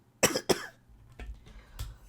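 Two sharp coughs close together in the game Phoenix Wright: Ace Attorney - Dual Destinies, loud and near, followed by quieter rustling and a soft third burst of noise.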